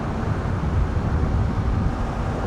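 A QJ Motor SRV 550 ST motorcycle riding along and holding revs, heard as a steady engine drone buried in heavy wind rush at the microphone, with no talking.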